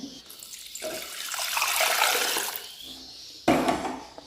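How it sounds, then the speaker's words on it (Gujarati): Water poured into a cooking pot in a village kitchen, a rushing splashing stream that swells and fades, then a short second pour near the end. "અને આ અબોટ પાણી એમાં નાખી લઈ"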